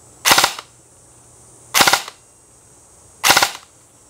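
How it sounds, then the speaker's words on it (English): A Double Eagle Honey Badger M904G airsoft gun fires three separate 3-round bursts, each a sharp, close, rapid triple crack, spaced about a second and a half apart with quiet gaps between. "So now when I switch it to auto, it should shoot in a 3-round burst."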